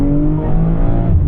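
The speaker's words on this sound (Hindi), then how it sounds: "ये देखो बट बट बट ऐसा आवाज़ आती है पीछे से क्रैकल की" A BMW M340i revs in sport mode, its exhaust giving a loud, close, steady rumble with faint crackle through a short burst.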